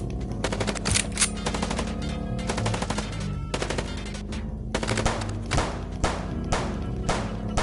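Rapid bursts of gunfire from the video game Chicken Police, dense machine-gun volleys with heavy thuds, loud and continuous across the whole stretch with only short gaps between salvos.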